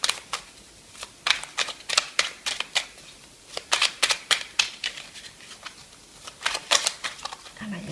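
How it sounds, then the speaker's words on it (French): Oracle cards are shuffled and drawn by hand, a close run of quick, crisp riffling flicks in irregular bursts, with a voice speaking briefly in between. "je vais sortir une petite carte de couleur pour terminer"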